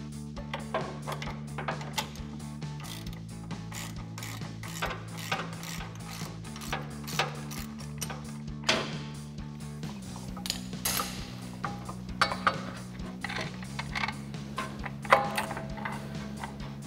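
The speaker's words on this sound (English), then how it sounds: "I've got an 18 millimeter ratcheting wrench to take that off." An 18 mm ratcheting wrench loosening the upper shock nut on a RAM 1500 pickup, a quiet run of rapid clicking ratchet strokes in short bursts, close up with no talk.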